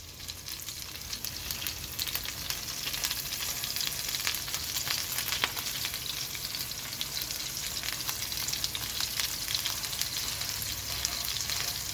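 Salisbury steak patties fry in a pan, a loud, steady sizzle and crackle of hot fat with small popping bursts, continuous throughout and close up, with no talking.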